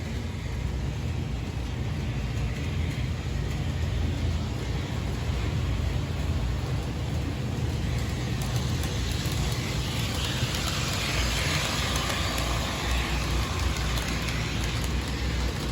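A 1957 Lionel Budd model train car in Baltimore and Ohio livery runs steadily along its track, a continuous close whirring motor hum with rattling wheel noise that holds level throughout.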